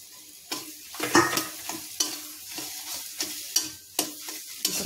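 Spices frying and sizzling in a pan while being stirred, with irregular scraping strokes and soft clinks roughly every second over a steady sizzle, close and moderately loud, no voices.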